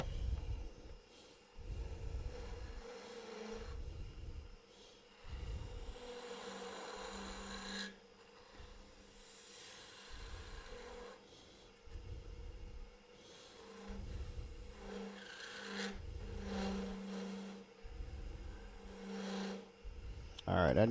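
A wood lathe spins a Wah-tie woodturning blank while a tool cuts, a rhythmic rasping scrape with low pulsing drone and some chatter from vibration, steady and close throughout.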